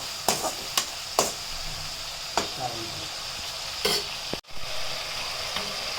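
Tomatoes sizzle in hot oil in a home kitchen, and a spoon scrapes and stirs the pan in sharp, irregular strokes over a constant frying hiss.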